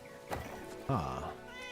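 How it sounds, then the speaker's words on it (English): A cat meows twice in the video game Where Winds Meet, first a short mew, then a louder, drawn-out meow with a falling pitch, over a soft steady game background. "I hear a kitty."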